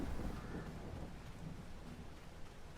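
Rain and thunder in the Farming Simulator 22 video game: a steady, faint wash of falling rain with a low, rumbling rolling thunder beneath it.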